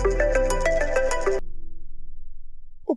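A phone ringtone plays a bright repeating melody for about a second and a half, then cuts off, leaving a low hum and a short blip at the end.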